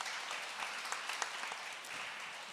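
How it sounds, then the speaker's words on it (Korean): Forum audience gives a panelist a round of applause, even continuous clapping from a seated crowd, moderately faint and steady throughout with no speech over it. "큰 박수 부탁드리겠습니다"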